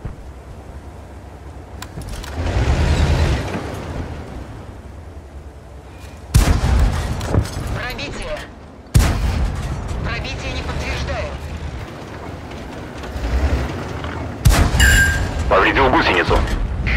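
SU-85B tank destroyer cannon shots and armour ricochets in a tank combat game, several loud booming blasts with metallic impacts spaced across the stretch, over engine rumble and a voice speaking between them.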